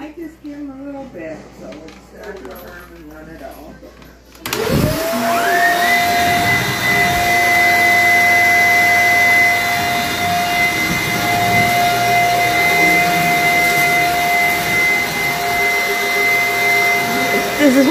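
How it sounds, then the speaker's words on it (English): A vacuum cleaner switches on abruptly and runs loudly and steadily with a high whine, drowning out the quieter talk heard just before it starts. "Man, this vacuum's wild."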